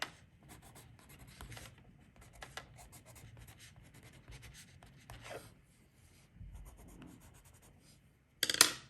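Watercolour pencils scratch and rub on paper in a steady, quiet run of strokes, close and soft throughout, ending with a louder brief scrape.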